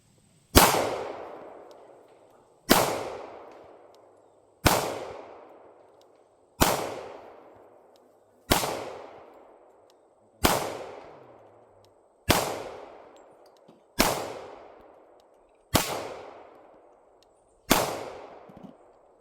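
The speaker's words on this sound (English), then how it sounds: "Kevin is shooting 40 Smith & Wesson" .40 Smith & Wesson pistol shots ring out at shooting practice, ten loud sharp cracks evenly spaced about two seconds apart, each with a short decaying echo, no talking between them.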